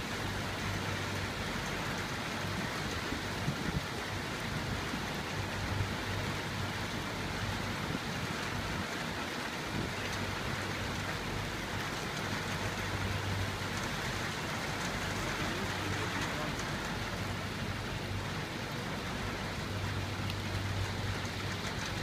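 Rain falling during a small thunderstorm in Northampton, UK, a constant, even hiss of drops on surfaces close by with a low background rumble, steady throughout with no voices.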